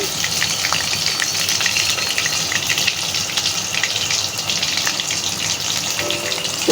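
Wontons deep-frying in oil over medium-low heat, a dense, continuous close-up sizzle and bubbling that stays loud and even throughout, with no voices.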